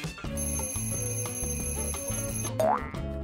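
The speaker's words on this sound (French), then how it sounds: "Ça a commencé avec le réveil." An alarm clock rings at close range, a bright repeating electronic melody with a steady bouncing rhythm, ending with a quick rising boing-like sweep.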